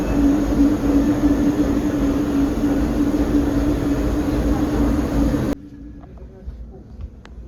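Passenger train in a luxury sleeper car rolling along, a steady loud rumble with a constant low hum that cuts off abruptly near the end, leaving quiet faint clicks.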